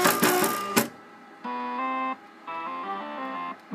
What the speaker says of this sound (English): Now resetting the carriage to the home position.